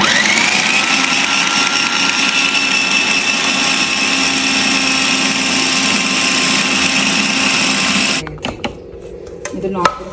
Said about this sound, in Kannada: ಅರ್ಧ ಭಾಗನ ಇದರಲ್ಲಿ ಹಾಕಿದ್ದೀನಿ ಇವಾಗ ಬ್ಲೆಂಡರ್ ಜಾರಲ್ಲಿ ಈಗ ನಾನು ಕಲಸಿಟ್ಕೊತೀನಿ